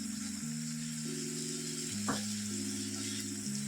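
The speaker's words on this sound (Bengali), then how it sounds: "এর মধ্যে এবার আমি বেগুনগুলোকে দিয়ে দেবো। বেগুনগুলোকেও দিয়ে এইভাবে একটু উল্টিয়ে পাল্টিয়ে দেবো বেগুনগুলোকে।" Eggplant pieces fry and get stirred in a spice mixture, giving a continuous, even sizzle over a steady background hum and tones, with one brief scrape midway.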